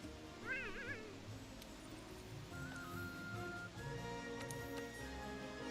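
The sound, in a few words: cat (Palico) meowing, from video game Monster Hunter World: Iceborne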